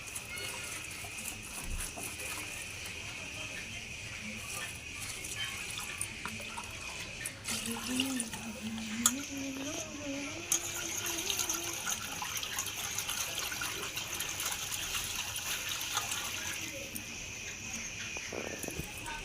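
Tap water runs while Morola fish are rinsed in a kitchen sink, a quiet continuous splashing and trickling. A voice is heard faintly at times over the water.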